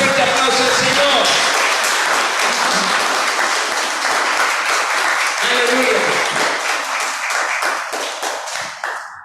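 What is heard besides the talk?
congregation applause in church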